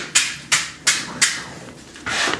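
A hammer strikes a hot hatchet cheek on an anvil, spreading the metal: five sharp, ringing blows spaced about a third of a second apart, each decaying quickly, loud and close.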